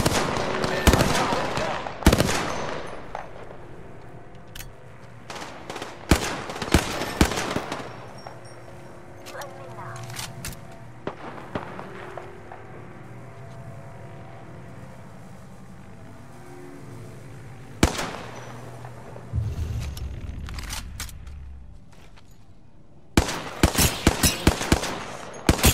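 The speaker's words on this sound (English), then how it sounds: "I am taking fire, friends." Gunfire in an Apex Legends match: dense bursts of rapid automatic shots at the start and end, with scattered single cracks between and a low rumble underneath, loud and close, while a player talks over it.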